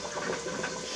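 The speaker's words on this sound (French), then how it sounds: "Hop, on tourne dans l'eau froide." Glass jar of figs being turned in cold water, a short continuous sloshing and swirling of water heard up close.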